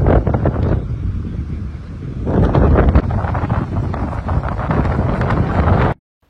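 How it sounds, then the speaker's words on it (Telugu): Strong hilltop wind buffets the microphone in loud, continuous gusts with low rumbling roar, easing briefly then surging again before cutting off abruptly. "కెమెరా తిప్పుతుంటే గాలి వస్తుందండి, మామూలుగా రావట్లే. ఒకసారి సౌండ్ వినండి."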